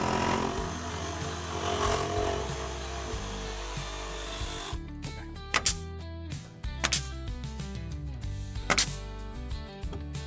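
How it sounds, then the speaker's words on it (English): A jigsaw buzzes loudly while trimming wooden rafters on an off-grid cabin roof, then cuts out halfway through, leaving scattered knocks and clatter. "I don't know if the jigsaw is the right tool for this"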